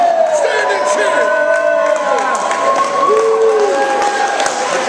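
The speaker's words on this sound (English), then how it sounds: "Stand and cheer! You got to stand and cheer!" A wrestling crowd cheering and whooping continuously at close range, loud and dense, with shouts and a voice rising over the din.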